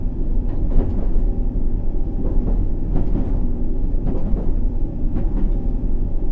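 London Underground District Line train in World of Subways 3 runs with a loud continuous low rumble, punctuated by regular rhythmic clacks of wheels over rail joints roughly every second.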